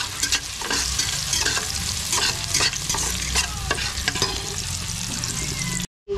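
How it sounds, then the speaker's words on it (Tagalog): Onions sautéing in a hot pan, a dense continuous sizzle with frequent scraping stirs, close and loud, stopping abruptly near the end. "Gisa lang po natin ito."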